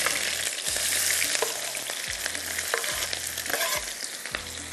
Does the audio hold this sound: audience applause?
no